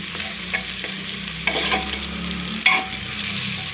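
Onions, potatoes and peas with carrot frying in a pan for pulao, a steady close sizzle broken by a few scraping stirs of the spoon, no voices.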